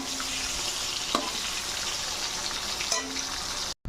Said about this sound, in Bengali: পটলগুলো দেখো প্রায় ভাজাই হয়ে গেছে, আর একটু সামান্য রাখতে হবে এপিট ওপিট করে